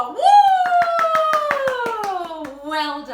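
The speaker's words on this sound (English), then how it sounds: "And a big, big 4 clap." Four hand claps for a child's fourth birthday at a home singing session, evenly spaced sharp slaps sounding under a sustained singing or cheering voice.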